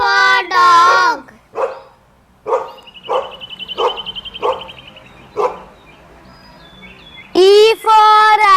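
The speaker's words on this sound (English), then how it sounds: "D for dog." A cartoon dog in a children's alphabet song gives a series of short, loud barks and yips between sung phrases at both ends.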